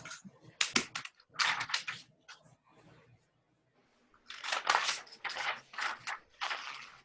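Scissors snip through paper, cutting out a printed saying for an image transfer craft, with quick crisp cuts in two clusters separated by a short quiet pause.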